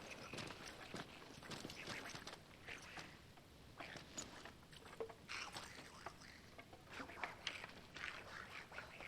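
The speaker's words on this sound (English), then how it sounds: "Sounds like Donald Duck" Goblin creatures quack like ducks in Final Fantasy XVI, with short nasal squawks scattered over a busy bed of game ambience and footstep-like patter, moderately quiet throughout.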